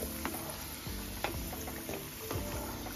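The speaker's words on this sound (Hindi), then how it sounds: "अरबी और आलू फ्राई हो गए हैं, इनको निकाल लेती हूँ।" Taro and potato pieces frying in oil for a mixed tawa vegetable dish, a steady close sizzle with occasional light clinks and stirring taps of a utensil against the pan.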